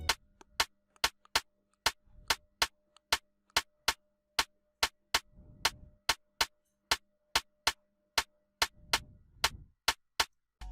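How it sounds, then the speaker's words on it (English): Basic dancehall drum groove programmed in FL Studio with a rim shot and two snares: a steady, evenly spaced run of crisp sharp clicks, with low thumping hits surfacing in a few spots, played alone. "dancehall drum groove played with a rim shot and 2 snares"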